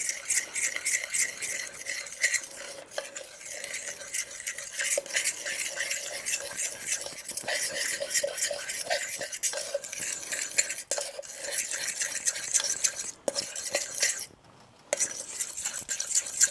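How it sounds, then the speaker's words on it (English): Flour being mixed with a fork in a bowl, a continuous rapid scraping and clinking of metal tines against the dish, close and steady with brief pauses. "now I'm going to mix it with my fork"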